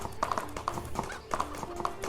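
Horse hooves clip-clop at a steady walking rhythm in the video game Animallica, a series of close, crisp knocks over a constant background hum with game music.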